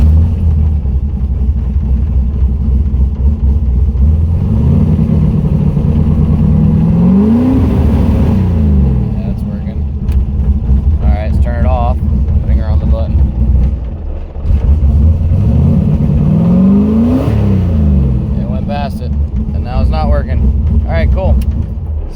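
A turbocharged, nitrous-equipped Mazda Miata with an LS V8 swap revs loudly, its engine sweeping up and falling back twice in a deep, droning roar that dominates throughout.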